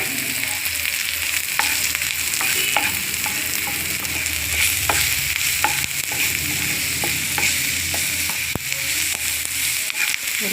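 Onions and green chili sautéing with turmeric and chili powder in a pan, a constant loud sizzle broken by repeated sharp scrapes and taps of a spoon stirring at an uneven rhythm.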